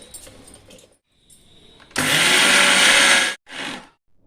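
An electric mixer grinder grinding soaked kuthiraivali rice whirs loudly in one sustained burst of about a second and a half. A shorter pulse follows, with quiet handling noises before it.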